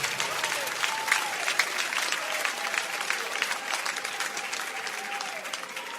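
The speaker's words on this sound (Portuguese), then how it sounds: "As palmas exaltam o nome do Senhor Jesus" A church congregation applauds during worship, with dense sustained clapping filling the room and a faint murmur of voices under the steady wash of hands.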